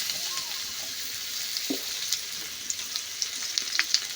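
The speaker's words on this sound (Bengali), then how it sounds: "আলুটা বেশ ভালো করে ভেজে নেব।" Small diced potatoes frying in oil in a pan, a continuous close sizzle with crisp pops and a few light stirring clinks, no one speaking.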